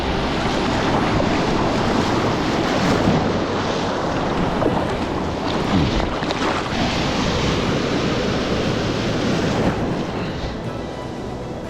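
Choppy ocean surface churns and splashes around a surfboard paddler offshore while crabbing, a dense continuous wash of water with wind buffeting the microphone, close and loud throughout with no talk.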